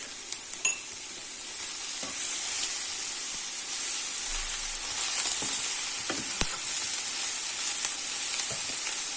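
Salted peppers and eggplant frying in a pan give a steady, close sizzle and hiss, broken by a few light clinks and scrapes from stirring.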